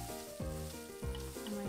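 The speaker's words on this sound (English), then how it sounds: "Sausage is browning." Sausage sizzles steadily in a frying pan in the Cooking Mama video game, a constant close hiss with repeating chime-like game tones layered over it.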